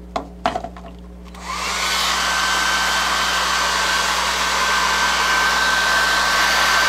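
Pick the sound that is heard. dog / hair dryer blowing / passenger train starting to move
hair dryer blowing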